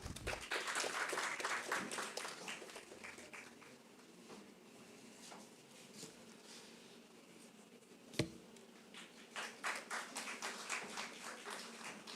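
Audience applause at a live college startup event, scattered clapping loud at first, thinning in the middle around a sharp knock, then swelling again near the end, with faint voices underneath.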